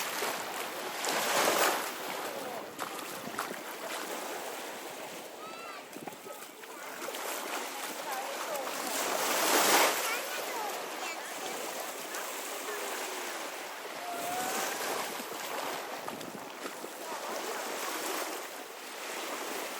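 Sea waves washing onto a sandy beach on Rhodes, Greece, a broad steady surf roar rising and falling in slow surges, with wind buffeting the microphone throughout.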